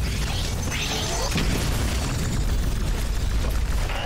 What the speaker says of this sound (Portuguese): Mas nada que uma bomba atômica não resolva